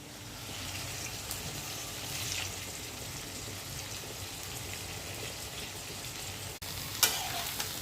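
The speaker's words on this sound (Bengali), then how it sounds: "বরবটি দিয়ে চিংড়ি দিয়ে রান্না করব আজকে।" Yardlong beans and shrimp fry in a pan with a continuous, even sizzle and some stirring scrapes, plus a brief clink near the end, with no talking.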